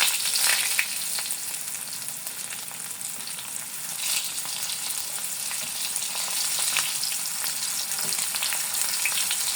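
Slices of pointed gourd coated in egg fry in a pan. A loud, continuous sizzle crackles close by, with occasional spatter pops. No voices are heard.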